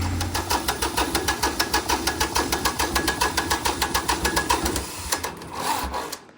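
An old John Deere tractor engine idles nearby with a steady, rapid chugging knock, then the rhythm slows and sputters briefly before revving back up toward the end.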